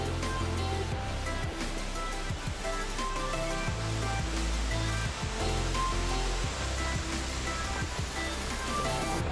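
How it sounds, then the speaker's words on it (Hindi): A mountain waterfall on the Madhyamaheshwar trek in the Panch Kedar region, a continuous loud roaring rush of falling water with no break, broadband and steady throughout, with no voices. "ये देखो झरना।"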